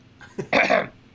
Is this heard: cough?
yes